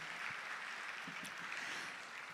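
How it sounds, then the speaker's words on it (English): Sustained applause from an audience at the opening ceremony of the Chandi 2025 culture event, a dense, steady wash of clapping that holds at an even level from start to finish with no voices over it. "A round of applause for Chandi"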